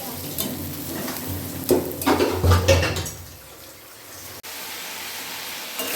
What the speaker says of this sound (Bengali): এই যে এদিকে আমি পেঁয়াজ আর লঙ্কাটা ভাজতেছি।